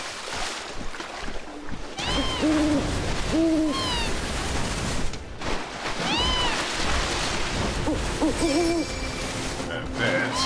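Repeated hoots from a bird in the Final Fantasy VII Rebirth video game sound in short paired calls over a continuous ambient wash of water and wind, fairly close and clear.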